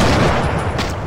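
Sniper rifle shot in a hunting video game, a loud dense burst of gunfire filling the whole short moment with a second sharp report near the end.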